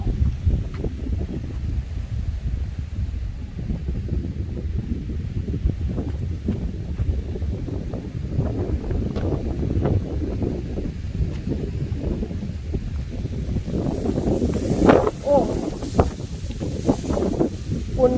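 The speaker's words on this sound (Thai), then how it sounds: "ลมหมุนนะครับลมหมุน" Strong swirling wind gusting at a reservoir beside rice fields as a storm builds, a loud continuous roar buffeting the microphone, rising and falling throughout with a heavier gust near the end.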